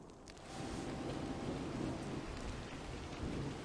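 A video-game thunderstorm gives steady, dense rain with low rumbling thunder rolling continuously underneath, loud and enveloping with no voices.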